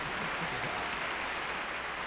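A small crowd applauds in a radio studio during a comedy segment, giving steady, even clapping throughout with no pauses.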